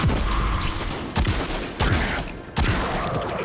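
Destiny 2 gunfire with Memento Mori bullets, heavy, booming shots in a dense rapid burst, broken by three short gaps before firing resumes, loud and close with no talk.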